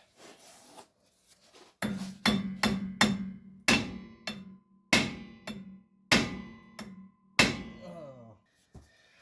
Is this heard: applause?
no